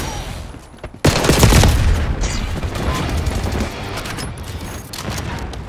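Dense gunfire from the Black Ops 6 video game: a sudden loud fusillade of rapid shots and booms erupts after a quiet second and keeps rattling on through the rest of the stretch.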